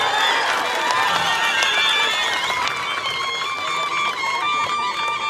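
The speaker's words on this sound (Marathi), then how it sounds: "जोरदार टाळ्या एकदा वाजून जाऊ द्या" Loud, sustained applause and cheering from a large political rally crowd in Maharashtra, a dense continuous roar of clapping running through the whole stretch, with no pause and no voices standing out.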